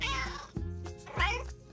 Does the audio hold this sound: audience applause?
no